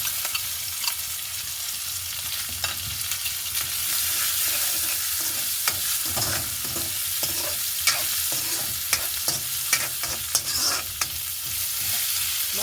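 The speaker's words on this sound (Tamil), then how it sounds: "அடுத்ததாக வெட்டி வச்சிருக்கிற பெரிய வெங்காயத்தை சேர்க்க போகிறோம்" Chopped big onions sauté with mutton in a hot pan, a steady sizzling hiss broken by scraping stirs and clinks of a spoon against the metal, close and continuous with no voices.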